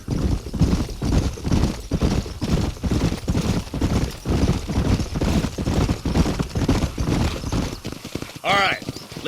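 Several horses trotting in the Western game Red Dead Redemption, steady rhythmic clip-clop of hooves close and loud throughout, with a brief whinny near the end.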